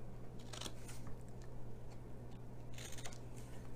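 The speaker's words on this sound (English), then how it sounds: "these we're going to cut because these are the flaps that are going to go inside" Scissors snip through felt flaps for a flower gift box, a few quiet close crunching cuts over a low steady hum.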